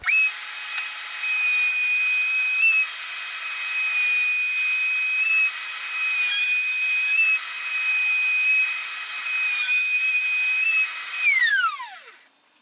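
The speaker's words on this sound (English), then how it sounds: "run this around and cut a rabbet around the edge here" A router cutting a rabbet around the edge of a wooden gift box makes a loud, steady high-pitched whine that holds for about eleven seconds, then winds down as the motor shuts off.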